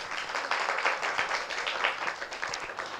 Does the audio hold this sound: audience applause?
yes